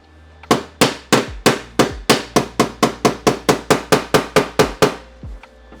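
Metal hammer blows on a car body panel during welding repair on a small Honda Fit, about seventeen sharp, evenly spaced strikes ringing close and loud, with no talk.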